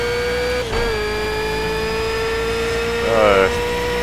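Race car engine in a racing video game holding a steady high whine under heavy throttle, with a brief dip near the start and a rising rev burst toward the end, no talking over it.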